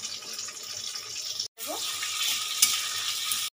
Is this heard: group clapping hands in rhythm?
no